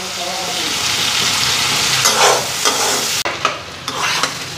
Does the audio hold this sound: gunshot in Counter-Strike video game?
no